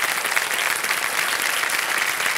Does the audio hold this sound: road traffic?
no